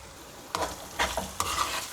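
Tomatoes are stirred into ginger-garlic masala frying for a Bannu beef pulao, giving a short burst of close sizzling with a few wet scraping strokes of the spoon.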